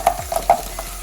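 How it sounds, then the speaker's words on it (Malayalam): Garlic and small onions sautéing in a pan for a Kerala clam roast, a steady soft sizzle broken by several sharp spoon-on-pan scrapes and clacks, close and fairly loud with no talking. "നല്ലതുപോലെ നമുക്ക് വഴറ്റിയെടുക്കാം."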